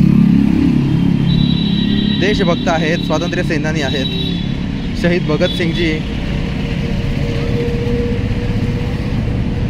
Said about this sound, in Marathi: भर दुपारच्या वेळेस चालू असलेली ही वाहतूक